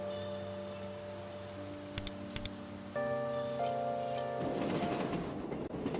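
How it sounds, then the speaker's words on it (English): Rain patters steadily in Persona 5 X, a soft continuous hiss of drops with some light clinks, layered under a sustained tonal music bed. "I don't need the rain. Fuck the rain."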